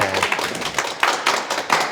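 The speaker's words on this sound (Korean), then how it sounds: "큰 박수 부탁드립니다" Audience clapping at a lecture, a brief spell of uneven, fairly close hand claps with distinct individual strikes rather than a full roaring ovation.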